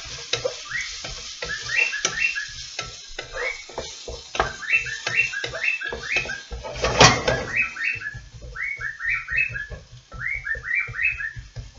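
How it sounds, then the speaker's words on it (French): Vegetables sautéing in a pan, with steady sizzling and the scrape and clatter of stirring, close and fairly loud; bright repeated bird-like chirps run alongside the cooking noise. "on ne fait pas une compotée, on les fait revenir juste ce qu'il faut"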